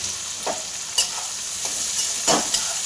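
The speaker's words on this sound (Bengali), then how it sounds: "পেঁয়াজটা আমার ভাজা হয়ে গেছে, হালকা লাল করে ভেজেছি" Chopped onion frying in a pan with green chillies and garlic, stirred a few times: a steady close sizzle carries throughout, broken by brief scraping stirs around half a second, one second and near two and a half seconds, with no voices.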